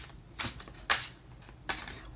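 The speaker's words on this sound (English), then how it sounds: "It's really hard to shuffle these." A Chakra Wisdom Tarot deck is shuffled by hand, three quick papery riffles of the cards, close and quiet in an otherwise still room.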